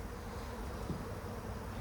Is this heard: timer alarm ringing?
no